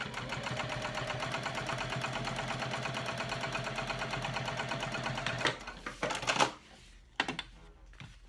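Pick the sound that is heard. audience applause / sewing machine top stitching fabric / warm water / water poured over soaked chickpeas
sewing machine top stitching fabric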